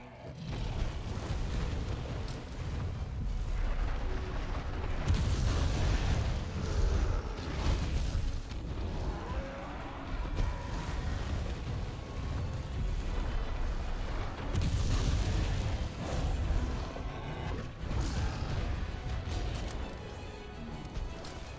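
Cannon fire in a Monster Hunter World arena hunt, heavy rumbling booms and crashes repeating throughout over a continuous loud low din.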